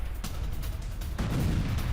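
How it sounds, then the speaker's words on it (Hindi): A substation explosion in Rostov, Russia, followed by fire and attributed to a drone attack: a heavy, booming rumble with sharp bursts, a louder blast surging about halfway through, then sustained roar. "रूस के इलाकों में भयंकर धमाका"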